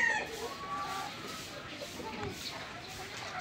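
A brood stag chicken held at a game farm gives soft clucks and short calls, close and fairly faint, over background noise and a person speaking.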